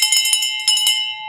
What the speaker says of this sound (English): Let's ring a bell for that one.